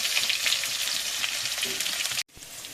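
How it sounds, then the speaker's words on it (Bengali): Potatoes fry in a hot pan, browning. A close, dense sizzle crackles steadily with no voices, then cuts out abruptly for a moment before resuming more softly. "আলুগুলো লাল লাল করে ভেজে নেব।"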